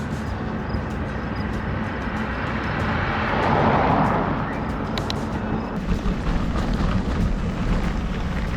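A Toyota Highlander rolls over gravel on a logging road, a steady low rumble of tires crunching stones with road noise, swelling briefly midway and fairly loud throughout.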